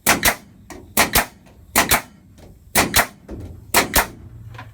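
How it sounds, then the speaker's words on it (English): A pneumatic nail gun with an air leak fires in sharp paired cracks, each followed by a short hiss, the bursts repeating at roughly one-second intervals close by. "Now I'm hanging these up with my trusty nail gun"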